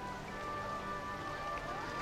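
Rain falling in a theme park video game, a soft, steady patter that stays faint and continuous, with no pauses.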